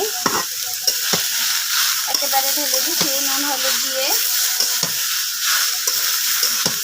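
Onion being fried and stirred in a pan with salt and turmeric for a home-grown sponge gourd bhaji, a steady sizzle broken by sharp spatula scrapes and knocks against the pan, with someone speaking over it.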